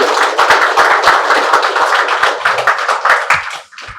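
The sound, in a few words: applause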